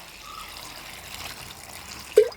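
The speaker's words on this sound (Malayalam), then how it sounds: "നല്ല വെള്ളം കൂടി ഉണ്ട് ഒഴിച്ചെടുക്കാം" A soft, steady trickle of water pours into a bowl already holding turmeric powder and salt, meant for boiling cauliflower. Quiet and close, with a brief louder splash near the end and no talking.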